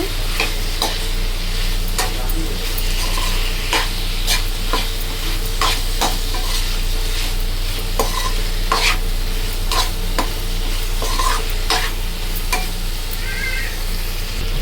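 Chilli powder and coriander powder being stirred into a simmering chicken curry: steady scraping strokes over a constant sizzle, with occasional sharp spoon taps against the pot.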